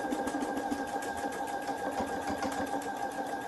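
A domestic sewing machine with a button foot stitches a button onto a garment, a close, rapid, even mechanical whir with a steady rhythmic needle beat and no talking.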